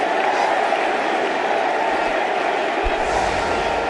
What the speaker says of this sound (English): He acknowledges the applause of his team up in the dressing room